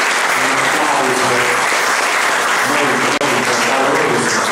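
Audience applause for an honoured guest, a local champion singer, at a book presentation: dense, steady clapping from a full room, sustained and loud throughout without a break.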